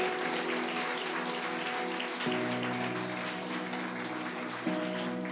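Congregation applauding during a Catholic sermon, a steady wash of clapping heard under sustained musical tones from instruments, continuing evenly throughout.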